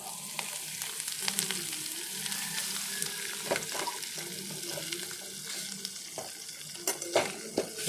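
Vegetable kurma being stirred after its tempering goes in, with curry leaves, pepper and chopped coriander: a low crackling sizzle under repeated scraping and clinking strokes of a spoon, close and fairly quiet, with no speech.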